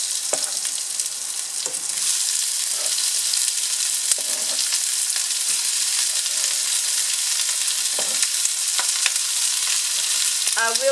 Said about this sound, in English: So now we're going to add the onion.